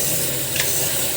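Pork bones stirred into a pot of boiling broth for nilagang baboy, a steady close hiss and bubbling with a faint scrape partway through.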